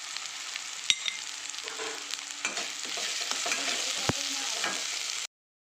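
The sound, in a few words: frying ginger garlic paste with turmeric and salt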